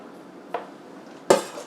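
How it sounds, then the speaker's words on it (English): Two brief clattering splashes as dumplings drop into a pot of broth made with chicken stock, soy sauce, sesame oil, sriracha, garlic and ginger; a softer plop comes first, then a louder splash, in an otherwise quiet kitchen. "drop the dumplings into the pot"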